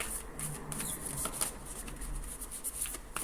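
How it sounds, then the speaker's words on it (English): Heart-shaped oracle cards shuffled softly in the hands, a faint, continuous papery riffling and sliding with scattered light taps, steady and close but quiet. "I'm not used to shuffling heart-shaped cards"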